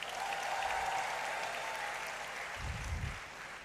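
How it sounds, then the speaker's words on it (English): Graduates at a congregation ceremony in a great hall applaud together, a broad steady wash of clapping from a large indoor crowd that slowly thins, with a brief low thump near the end. "Clap for yourselves."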